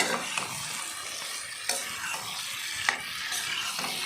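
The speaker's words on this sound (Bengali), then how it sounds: "এখন একটু নেড়ে চেড়ে মিশিয়ে নেব।" Vegetarian jackfruit curry with potatoes, made without onion or garlic, is stirred in a pan. Quiet scraping strokes with occasional sharp spoon clicks sit over a soft, low sizzle, and no one speaks.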